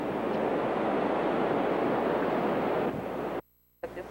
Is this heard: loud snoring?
no